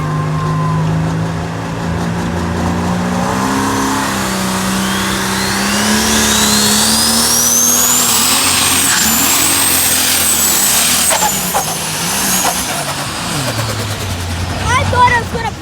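Pulling tractor at a tractor pull, its engine roaring loud and steady with rising revs, while people talk and exclaim over it.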